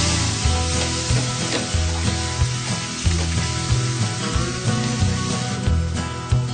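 Spices and samosa filling with black pepper and red chili sizzling in a pan while stirred, a loud close frying hiss with rhythmic scraping strokes of the spoon repeating throughout.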